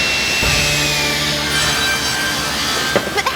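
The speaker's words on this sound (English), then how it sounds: "And this saw is very noisy." A spinning rotary saw cuts a block of wood for hairbrushes with a loud, steady whine and rasp, nearby and continuous, ending in a few sharp knocks.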